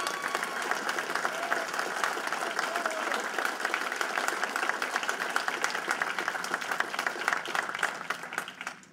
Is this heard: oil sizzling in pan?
no